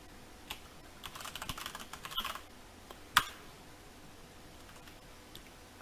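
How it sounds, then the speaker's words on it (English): Fingers typing a password on a computer keyboard while installing software on a Linux server: a few scattered keystroke clicks over about three seconds with one sharper tap, close and fairly quiet, no talking. "Just type in the wrong password."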